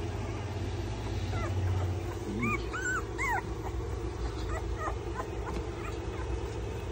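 Two-week-old American Bully puppies whimper and squeal in a series of short high cries over a steady low background hum.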